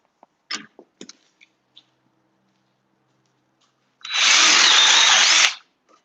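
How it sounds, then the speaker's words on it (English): Power drill boring a dowel hole into a wooden craft piece, a single loud, close burst of whirring lasting about a second and a half, preceded by a few light taps and handling clicks. "my other idea for this piece was to make a dowel hole."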